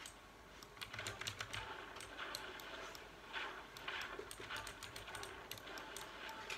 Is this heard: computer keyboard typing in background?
yes